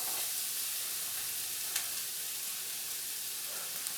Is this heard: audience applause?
no